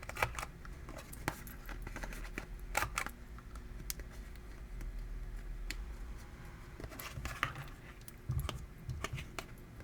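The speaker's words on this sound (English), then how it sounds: "I'm going to use the We Are Memory Keepers corner chomper that has the angles" A We Are Memory Keepers corner chomper rounds off the angled corners of paper journal tags, giving sharp, close punch clicks and snaps in irregular bursts, with light paper handling and rustling between them.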